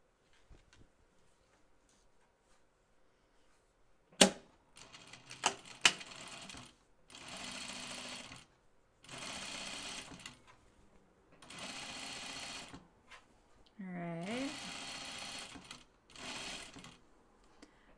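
A sewing machine stitches the seams of a Scout Tee blouse in several sustained whirring runs of a few seconds each, close by. Brief clicks and handling noises fall between the runs.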